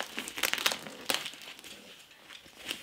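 A taped cardboard parcel is being opened, with quiet crinkling, scraping and tearing of packing tape in short irregular bursts heard close up without any talk.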